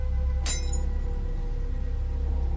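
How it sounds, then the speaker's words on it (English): A single sharp burst of glass shattering with a brief high tinkle of falling pieces, heard at 4 a.m. through an open window during an Appalachian thunderstorm over a steady low hum. "like glass shattering."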